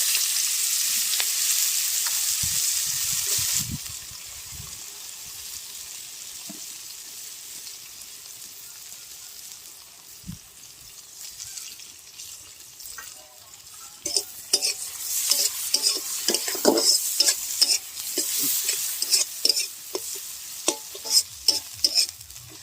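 Onions and spring onions fry in a pan as the spice base for a winter vegetable lentil dish, giving a steady bright sizzle that eases after a few seconds, then returns louder with the clicks and scrapes of stirring.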